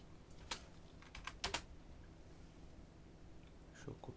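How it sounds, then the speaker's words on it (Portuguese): Quiet computer keyboard typing, with a few scattered key clicks in a short cluster and a final Enter press, close by in a calm room. "Só apertar um Enter aqui e ver o nosso delta."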